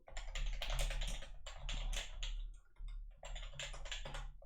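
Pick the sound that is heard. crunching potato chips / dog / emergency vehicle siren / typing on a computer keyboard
typing on a computer keyboard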